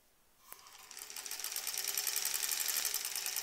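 A sewing machine stitches through several layers of quilting fabric, starting with a click and then building into a steady, fast mechanical whir that grows louder and continues alone.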